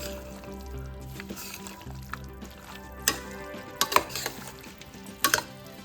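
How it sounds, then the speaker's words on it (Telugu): Chili powder and oil being stirred together in a pan for a spicy chicken kurma, with soft scraping and a few sharper metallic clinks of a spoon against the vessel, close and fairly quiet. "ఇవన్నీ వేసేసాక బాగా మిక్స్ చేసుకోవాలండి"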